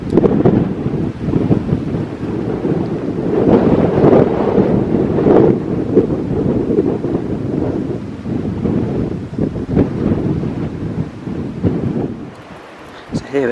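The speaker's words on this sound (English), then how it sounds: "It's still very windy at the moment." Strong wind buffets the microphone among the open St. Benet's Abbey ruins in Norfolk, a steady low roar with gusty swells throughout, dropping briefly near the end.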